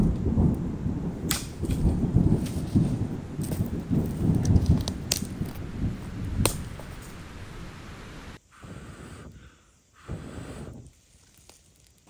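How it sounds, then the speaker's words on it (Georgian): Rain and thunder sweep through a forest at night near a burnt-out campfire, a loud rumbling wash of storm noise with sharp cracks that fades into quieter patter. "აგრილდა და წვიმა დაიწყო"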